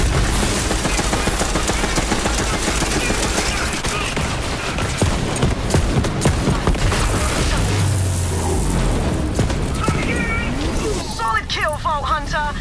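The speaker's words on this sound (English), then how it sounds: "He's shooting like he's crazy." Rapid automatic gunfire and explosions from the shooter video game Borderlands 3, loud and nearly continuous with bursts and booms, while someone talks over the action.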